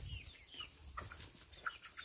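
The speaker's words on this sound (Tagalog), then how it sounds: "Subukan po natin itong puso ng saging kung tukain po ng ating mga manok" Chickens crowd around and peck at a banana heart, with soft clucks and faint tapping pecks over a low background rumble, fairly quiet and close.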